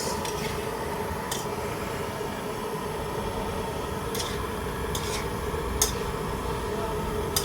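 A steady sizzle of frying fills the clip, with occasional scraping strokes of a utensil stirring pork with garlic and onion in a pan, close and continuous.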